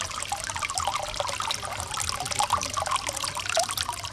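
Continuous light trickle and splashing of water falling from a pipe, steady and moderately quiet throughout.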